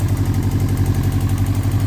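A 1998 Subaru Forester S engine running steadily after a timing repair, with a loud, close, even idle thrum and a slightly raspy exhaust, no talking.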